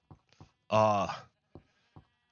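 A single loud, close sheep bleat from a rainbow sheep farm in a video game, lasting about half a second, with faint short sounds around it and no talk.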